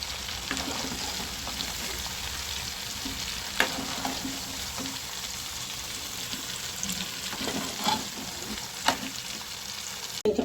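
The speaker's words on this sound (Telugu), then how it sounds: "అవి బాగా వేడి నూనెలో వేపించుకోవాలి." Raw prawns fry in hot oil with a continuous, fairly quiet crackling sizzle and occasional pops and utensil taps, close by.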